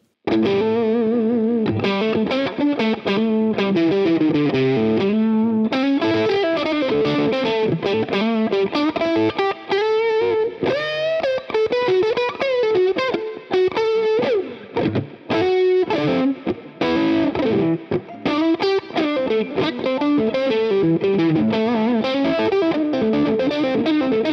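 An electric guitar through a silicon Klon-clone overdrive pedal plays a continuous, busy riff with a gritty, saturated tone, slightly open at the top end, loud and unaccompanied throughout.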